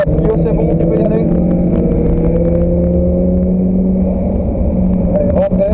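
Renault Clio race car at Spa-Francorchamps circuit, a loud sustained engine drone holding steady pitch, heard from inside or near the car while a voice talks over it.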